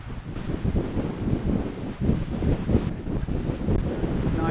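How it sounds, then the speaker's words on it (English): Strong wind at an RC glider flying field roars and buffets the microphone without pause, a loud, rumbling gusty rush that swells and dips throughout. "Now it's too windy."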